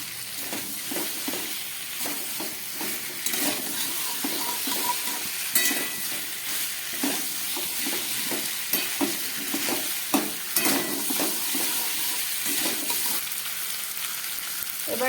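Boiled jackfruit and potato fry with spices in a pan over medium gas, a steady close sizzle broken by regular scraping stirs and light clinks, with no talking.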